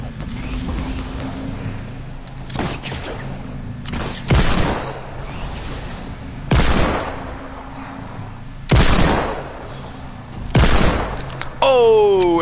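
Bursts of gunfire in the video game Fortnite, a string of five or six loud, sharp volleys spaced a couple of seconds apart over a steady hum of background game sound, ending with a rising tonal sweep.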